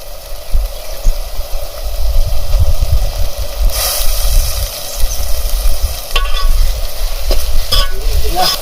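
River shevda fish being mixed and fried in a pan at an outdoor village hillside kitchen, scraping stir strokes and sizzle over a loud steady low rumble.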